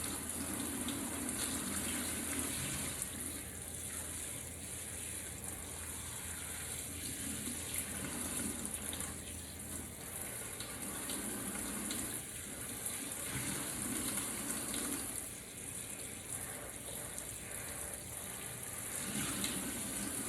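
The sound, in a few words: rinsing conditioner out of hair with cold water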